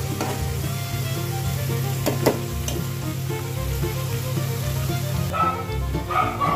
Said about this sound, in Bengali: সবজিগুলো ভাজা হয়ে গেছে